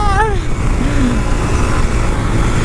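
A Karizma R motorcycle engine roars loudly and steadily up close, with a brief pitch sweep at the start and a voice briefly heard over it.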